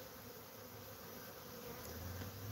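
Possible robber bees buzzing around a hive box outdoors, a steady continuous insect drone with no voices, fairly even in loudness throughout.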